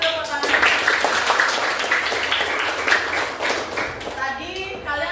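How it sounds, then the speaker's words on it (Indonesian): Schoolchildren in a classroom clap for a classmate, a steady rapid patter of small hands filling the room, with a few children's voices rising over it toward the end. "kasih dulu tepuk tangan"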